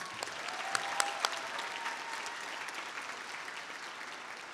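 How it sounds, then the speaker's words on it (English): A graduation audience applauds its student speakers, with steady, moderately distant clapping throughout and a few sharper individual claps standing out. "One more round of applause for our speakers."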